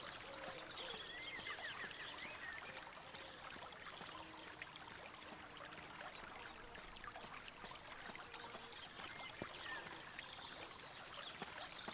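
Fountain water from the Black Mirror game trickles and splashes steadily, a continuous soft wash of falling water with faint higher drips, moderately quiet and without voices.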